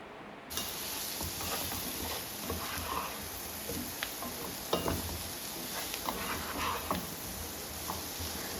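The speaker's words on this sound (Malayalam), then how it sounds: "പിന്നെയും കുറച്ച് സമയം ഇതൊന്ന് ഫ്രൈ ആവാൻ വയ്ക്കുക" Spiced potato fry topped with chopped coriander leaves sizzles in a pan, a steady close crackle with scattered small pops and taps throughout.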